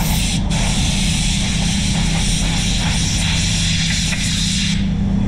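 A Prevost high-powered air blower runs continuously at close range during clear coat work on a Citroen C4, producing a loud, steady broadband rush of air that drops away abruptly near the end.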